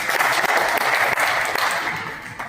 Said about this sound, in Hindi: एक बार और बोलना तालियां